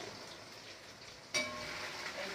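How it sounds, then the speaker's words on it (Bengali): Cut potatoes fry in hot oil in a pan, a soft, steady crackle that jumps sharply louder partway through as more sizzling kicks in, then continues evenly. "আলুগুলো সবার আগে একটু ভেজে নিচ্ছি"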